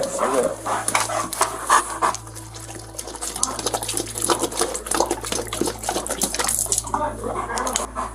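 A dog pants rapidly and rhythmically close by, steady throughout, while people talk over it.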